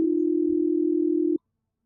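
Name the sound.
mobile phone call ringing tone, sound effect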